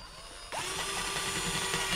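A power drill starts after a brief quiet and drives screws into a wall bracket, giving a steady whirring whine with a slight pulsing that stays loud and near, with no talk.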